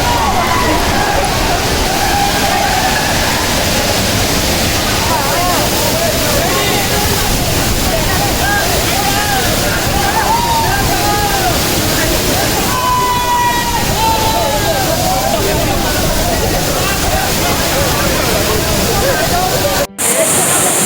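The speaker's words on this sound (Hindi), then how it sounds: "आवाज़ सुनाई दे रही है पानी की और लोगों की।" At Deojhar waterfall, water roars as a loud, steady broadband wash that stays constant throughout, with faint crowd voices mixed into the torrent.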